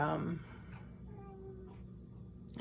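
A single short meow near the start, close and clear, followed by quiet room noise.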